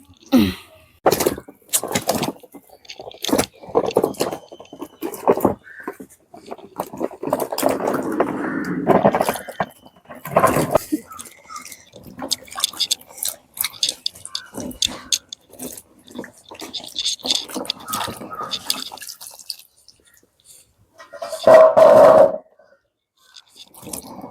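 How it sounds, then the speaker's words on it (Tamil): Jambu fruits are washed in water, giving irregular splashes, sloshes and drips with clattering handling sounds, interspersed with quiet spoken voices nearby. "சரி இதை நாங்கள் இப்போ கழுவுவோம்"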